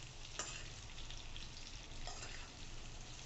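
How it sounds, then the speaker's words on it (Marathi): Raw mango pieces sautéing in a pan for a sweet-sour methamba, a steady low sizzle with a couple of faint scrapes of stirring, heard alone. "असं छान परतवून घ्यायचं"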